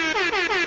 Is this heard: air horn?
yes